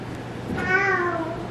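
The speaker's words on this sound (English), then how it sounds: "Titchy kitty." An orange cat gives a single drawn-out meow, close and clear, over light background noise in a home.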